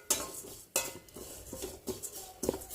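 A utensil stirs store-bought chushi rice dumplings as they lightly fry in a pan, giving close scraping and clinking strokes at a steady pace over a faint background hiss.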